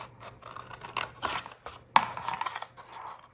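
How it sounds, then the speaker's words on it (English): Scissors cut through the flap of a homemade cardboard chocolate box, making quiet, close snips and rasping scrapes in an irregular rhythm, with one sharper click near the middle. "So you're gonna cut away this part on both sides."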